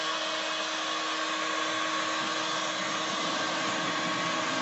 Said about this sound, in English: That's our new little DC motor that we fitted a couple of days ago. 200 watts, 24 volt,